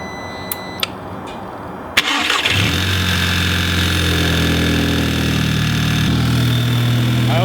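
An Audi A3/GTI EA888 TFSI engine fitted with a catch can cranks and fires after a couple of faint clicks, then settles into a loud, close idle with a steady rumble.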